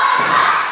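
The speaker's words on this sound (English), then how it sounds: "this crowd here at Waltham Abbey are absolutely ecstatic for the resurgence of the Bengal" A wrestling crowd at Waltham Abbey roaring and cheering, a brief loud wash of massed voices.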